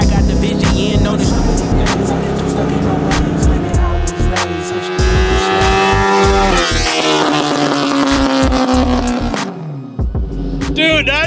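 A mini trophy truck powered by an R1 motorcycle engine with chain drive screams at full throttle, its high revving engine note climbing and wavering before dropping off, loud and close with mechanical rattles.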